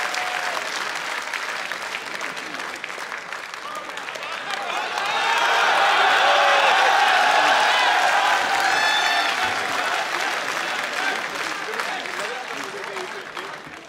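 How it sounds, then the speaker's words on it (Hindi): An audience at an Urdu shayari poetry gathering applauds to welcome a poet on stage, a broad roar of clapping that swells loudest midway and stays sustained, with voices mixed in under the clapping. "जोरदार तालियों की गूंज में इस्तकबाल कीजिए"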